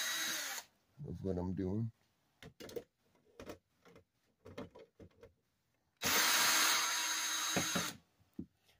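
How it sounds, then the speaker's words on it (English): A regular power drill from a drill and driver set runs while unscrewing small screws from an Element TV being taken apart. There are two loud whirring bursts, one brief at the start and one longer near the end, with someone talking and tools tapping between them. "this is the regular drill out of the drill and driver set"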